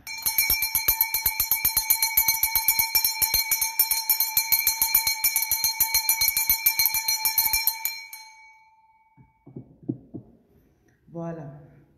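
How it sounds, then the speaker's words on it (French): A resonant bell rings for about eight seconds, a rapid series of bright struck tones with a long sustained shimmer, then stops abruptly before brief quiet clatter. "Sonne d'abord la fabuleuse cloche."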